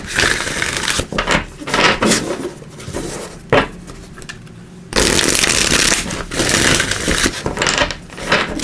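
A deck of tarot cards being shuffled by hand, repeated crisp riffling and flapping bursts close to the microphone, pausing briefly before another loud shuffle.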